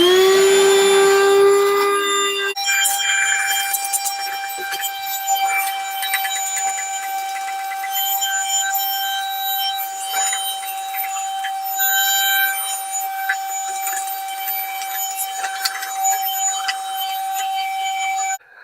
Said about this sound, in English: I have a vacuum that I like to use to take it out of there.